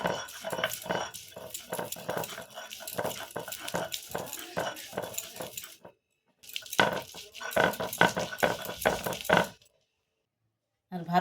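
Leftover cooked rice ground on a shil-pata grinding stone: quick rhythmic scraping strokes of stone on stone, close and repeated, broken by a brief pause before another burst of strokes.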